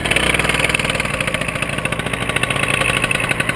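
A paramotor engine at an airfield flight school runs at low throttle, a loud, close, steady buzzing putter with a rapid pulsing rhythm that holds evenly throughout.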